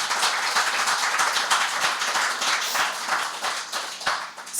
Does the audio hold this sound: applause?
yes